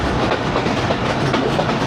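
The Allama Iqbal Express runs through a station on the Lahore to Narowal line, a loud close rumble with rhythmic clickety-clack of wheels over rail joints, continuous throughout.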